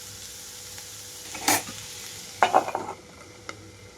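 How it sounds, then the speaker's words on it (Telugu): Snake gourd fry is mixed in a hot pan over a quiet sizzle, with a couple of short, close bursts of spatula scraping separated by stillness. "మొత్తం కలిపేసి మూత పెట్టేస్తున్నాను నేను"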